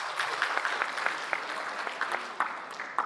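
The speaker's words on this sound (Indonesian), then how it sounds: "Tepuk tangan loh." A short burst of steady applause from a seminar audience, dense clapping throughout at moderate loudness with a few sharper claps standing out.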